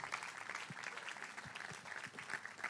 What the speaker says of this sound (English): Please, let's give her a round of applause again,